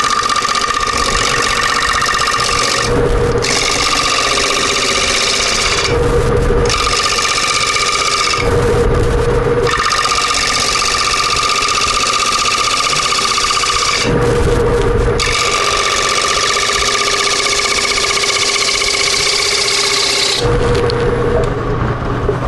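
A bottom feeder gouge ground at about 55 degrees cuts a triangular wooden bowl spinning on a lathe, giving a steady loud hum and hiss broken by repeated rhythmic swells of scraping as the tool engages.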